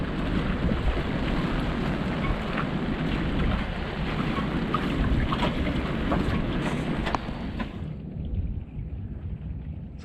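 Rain and wind wash over a sailboat at anchor, a steady broadband hiss with scattered droplet ticks and low gusty rumble, easing somewhat in the final seconds.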